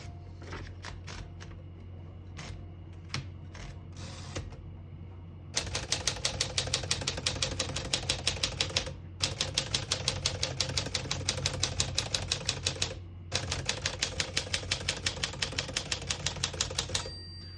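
Rapid, steady clacking of a 1954 Smith-Corona Silent portable manual typewriter's keys in three long runs separated by brief pauses, close and fairly loud.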